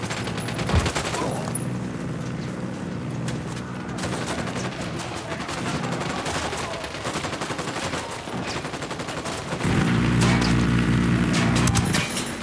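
Automatic and rifle gunfire crackles through Tom Clancy's Ghost Recon Wildlands combat, sustained bursts layered with game ambience, growing heavier and louder near the end.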